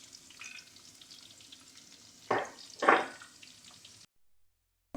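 Garlic and small red onions hit hot oil for a fish curry, a low sizzle building to two loud bursts of spitting, then cutting to silence near the end.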